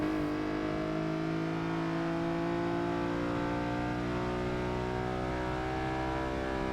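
A car engine in the racing game Forza Motorsport 6 held at high revs, a loud, steady, harmonic engine drone with little change in pitch across the whole stretch and no voices.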